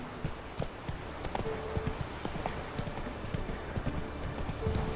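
Roach, the horse in The Witcher 3, gallops with steady, fairly close clip-clop hoofbeats over a continuous ambient bed, with a brief whinny-like tone.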